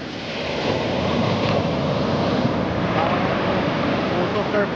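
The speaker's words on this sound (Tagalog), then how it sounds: "Ang lakas ng alon no?" Strong ocean waves on an island shore keep up a continuous, full roar of surf. The sound is dense and steady, blended with gusty wind buffeting the microphone.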